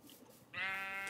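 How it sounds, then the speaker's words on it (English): A Minecraft sheep gives a single short, nasal synthetic bleat midway, clear over faint background game noise. "Just killing sheep on the way."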